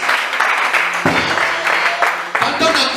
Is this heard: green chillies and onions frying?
no